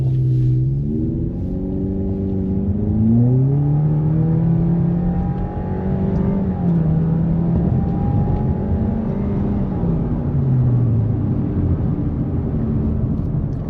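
A Subaru car engine revs up and pulls away from a standstill, its pitch rising and shifting through gears, loud and close throughout with no talking.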